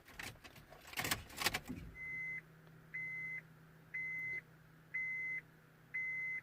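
Ignition on a Honda CR-V i-DTEC switched back on: a rattle of keys and clicks at first, then a regular series of five clear dashboard beeps, evenly spaced about once a second over a faint hum.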